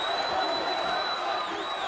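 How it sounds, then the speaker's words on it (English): A large arena crowd at a wrestling event roars in sustained ovation for Batista, a steady wall of cheering and whoops with a high whistle-like tone riding over it. "Listen to the thunderous ovation."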